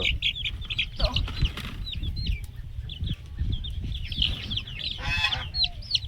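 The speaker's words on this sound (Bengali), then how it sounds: "মুরগি ধরতে উল্টে পড়ে যাচ্ছে" Chickens cluck and squawk in agitation as they are caught, with close, overlapping calls and a burst of flapping, scuffling commotion.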